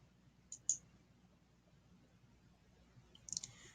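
Computer mouse clicks in a quiet room: two crisp clicks early on, then a quick cluster of several clicks near the end.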